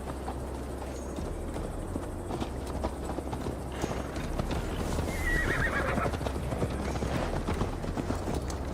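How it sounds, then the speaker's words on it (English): Horses in Assassin's Creed Valhalla whinny and clip-clop along at a steady trot, a loud neigh standing out midway over a constant layer of game ambience and hoofbeats. "Mount up, Eivor. It's a long ride to Tamworth."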